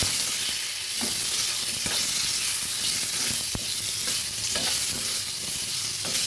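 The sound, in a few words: potatoes being stirred and fried with salt and turmeric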